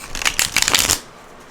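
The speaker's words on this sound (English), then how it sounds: "I'm going to shuffle 2 more times and then we're going to jump right into your reading." A deck of tarot cards is shuffled in a quick, crisp riffle of flapping card edges, close and fairly loud, lasting under a second before stopping into near silence.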